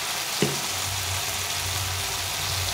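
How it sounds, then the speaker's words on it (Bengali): Ground cumin and chilli powder fry in hot oil in a pan, giving a steady close sizzle with a brief knock near the start and a low hum underneath, no voices. "কেটে দিয়ে ভালো করে কষিয়ে নেব।"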